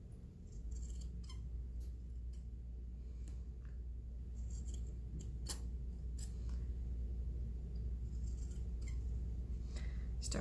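Scissors snipping baker's twine to shape a tassel: repeated crisp, close cuts scattered irregularly over a steady low hum, with no talking.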